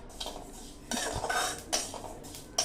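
Cumin and spices for shikanji masala are dry-roasted over low heat in a pan, heard as bursts of scraping and rattling from a spoon on metal, close and uneven, with no voices.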